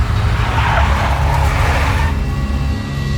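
Big black Mercedes from the Max Payne video game driving close by, a loud engine roar with tire squeal and skidding that swells, then eases into a steadier rumble.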